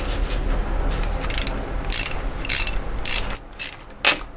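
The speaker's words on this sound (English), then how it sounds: "Now I tighten my chain." Ratchet wrench tightening the drive chain on a Harley-Davidson motorcycle, a series of short clicking bursts in uneven rhythm, close and fairly loud over a quiet background.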